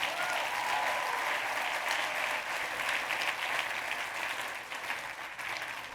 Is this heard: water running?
no